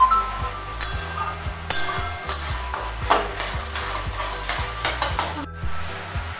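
Spices are sautéed in a pan for palak paneer, with a loud, close sizzle under repeated scraping and clinking strokes of a spoon against the metal pan.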